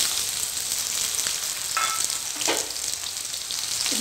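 Dried red chillies and chopped onion frying in about three tablespoons of hot oil, a steady close sizzle with a few brief scraping stirs, no talking.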